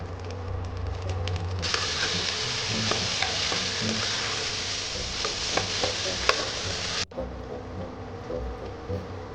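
Elephant foot yam frying in hot oil with ginger paste, a steady hiss and crackle that swells louder as the yam goes in, with occasional scrapes and stirs before cutting off abruptly.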